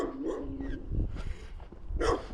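A dog barking outdoors, several close, sharp barks and yips in irregular bursts, with some rumbling background noise between them.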